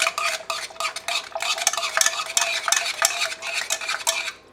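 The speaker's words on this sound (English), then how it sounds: "take it off the heat, mash it a little bit more so it can like thicken up" Cooked strawberries are mashed and stirred in a pot just off the heat, giving a close, continuous run of wet scraping and squelching strokes in quick succession.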